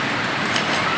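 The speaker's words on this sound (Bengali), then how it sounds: "আর দেখো কি জোর বৃষ্টি হচ্ছে" Heavy rain falls in a dense, continuous hiss, loud and steady from start to finish.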